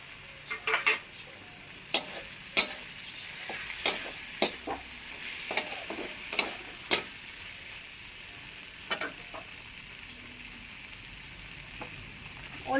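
Tomatoes hit a hot frying pan of spiced masala, giving a steady low sizzle punctuated by a dozen sharp scraping stirs of a spoon against the pan, close and fairly quiet with no talk.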